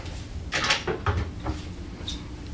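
A cabinet door in a Royal Caribbean Radiance of the Seas grand suite swings open with a soft creak and light wooden clunks, close and fairly quiet over a steady room hum.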